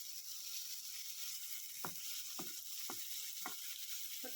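Spices and asafoetida sautéing in a pan for bun dosa chutney: a faint, steady sizzle, broken by five evenly spaced soft knocks from a spoon against the pan.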